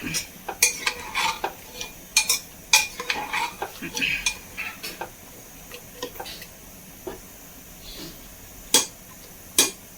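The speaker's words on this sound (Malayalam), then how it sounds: "മുക്കാൽ സ്പൂണോളം മുളക് പൊടി, ചേർത്ത് നന്നായി ഇളക്കി കൊടുക്കാം." A spoon scrapes and clinks against a pan as chili powder is stirred into a cooking dish, irregular sharp taps over a faint sizzle.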